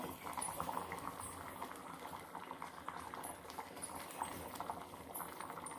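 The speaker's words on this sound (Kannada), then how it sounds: "ಈಗ ಇದು ಚೆನ್ನಾಗಿ ಕುದೀಲಿ" A pot of dal made with moong and toor lentils and fenugreek leaves boiling steadily, giving a continuous dense bubbling and gurgling at moderate loudness.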